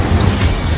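Incendio fire spell cast in Hogwarts Legacy on PS5: a short, loud, roaring whoosh of flame with a heavy low rumble, alone and steady for under a second.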